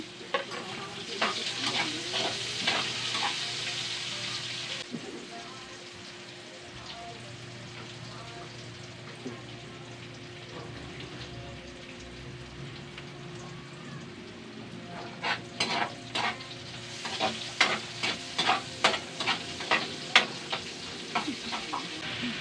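Garlic and onion sizzle and crackle as they are stirred in a hot pan, a steady frying hiss broken by bursts of sharp popping and scraping near the start and again toward the end.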